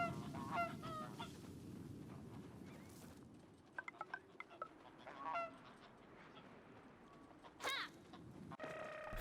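Geese honking in the video game Knights and Bikes, a flock calling over soft rustling ambience, with several sharp honks rising and falling at moderate distance.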